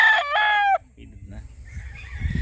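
A Sunny Lagoon Gray gamefowl rooster with a medium straight comb and Kelso blood gives one loud, close crow that ends within the first second, followed by quiet farmyard rumble.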